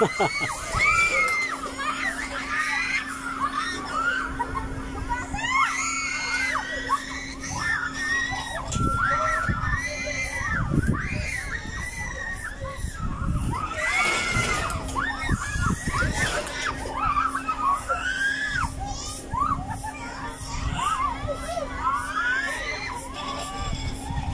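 A crowd with children shouting and screaming over splashing water, echoing across the busy Mall of Asia in Manila, Philippines, with a steady bustle throughout and louder bursts of shrieks.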